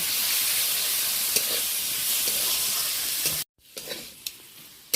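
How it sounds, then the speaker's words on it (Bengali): Shrimp fry in a pan with onion and tomato, making a steady hissing sizzle with occasional stirring clicks, then a sudden cut to quieter sizzling with a few utensil taps. "চিংড়িটা বেশ ভালো করে ভেজে নিলাম পেঁয়াজ টমেটোর সাথে।"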